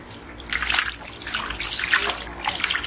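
Snails being rinsed in water, a steady broadband splashing and sloshing that swells in several surges over a few seconds, close and fairly loud with no talk.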